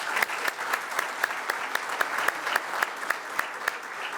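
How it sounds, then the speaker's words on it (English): Scholar-athlete awards ceremony crowd applauding steadily, with a dense wash of clapping and regular prominent claps giving a rhythmic pulse, continuous throughout and heard alone. "One more round of applause, please."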